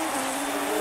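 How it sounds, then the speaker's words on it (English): A continuous insect buzz from the wrestling video game WWE 2K19 drones on steadily at moderate loudness for under a second, with no talk over it. "Listen to the buzzing."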